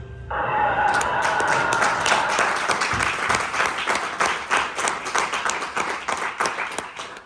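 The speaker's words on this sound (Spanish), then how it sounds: "Recibamos con un fuerte aplauso a Iván Cernadas." An audience at a talk on AI for content creators bursts into loud applause to welcome a speaker, starting abruptly, holding dense, then thinning into individual claps near the end.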